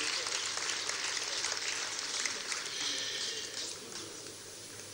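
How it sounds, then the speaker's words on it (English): An audience applauds President Muhammadu Buhari at the second signing of the 2019 National Peace Accord. The clapping is faint, steady and diffuse, like a large hall heard from a distance. "Another round of applause for His Excellency"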